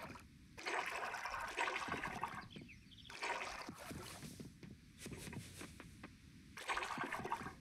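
Water being refilled in the farming game Coral Island, a run of gushing, splashing bursts that swell and pause several times, fairly close and steady, with no talking.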